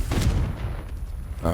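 A Confringo spell explodes in a Harry Potter-style magic video game, a heavy low boom at the start and another blast near the end, set under busy game sound and a speaking voice.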